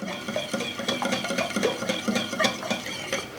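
A spoon works through yogurt kömbe dough with 90 grams of butter in a bowl, giving a quick rhythmic run of wet scraping and light tapping strokes, close and moderately loud with no voices.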